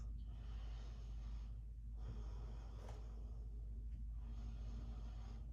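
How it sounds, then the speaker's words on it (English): A person breathing slowly and deeply while holding a reverse warrior yoga pose, about three soft, close breaths with airy nasal inhales and exhales over a low steady hum, without speech. "And take 3 breaths."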